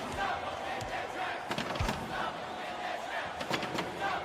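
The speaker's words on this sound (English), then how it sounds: "This crowd is going insane." Virtual arena crowd roars loudly and without a break during a college basketball video game, with a few sharp bursts and thuds rising out of the steady din.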